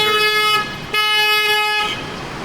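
Car and motorbike horns honk repeatedly on a busy Saigon street in District 1 to District 10 traffic, loud and close with brief gaps between long blasts.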